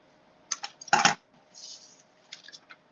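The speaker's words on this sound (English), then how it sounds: "Now I'm just going to take my scissors and I'm going to cut that off." A few crisp snips close by, spaced out with quiet gaps between, like scissors cutting through paper.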